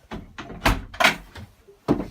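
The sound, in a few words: cabin door on sailboat opening or closing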